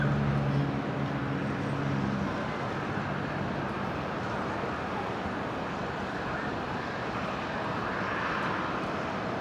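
A Virgin Australia aircraft lands on runway 19 left at Brisbane airport, heard as a steady, loud jet engine roar with broad rushing noise that holds constant throughout, with no talk over it.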